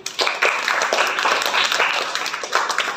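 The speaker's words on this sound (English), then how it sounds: "Clapping." Children in a classroom clap for the winner of a factor number game, with loud, close, sustained clapping that fills the moment.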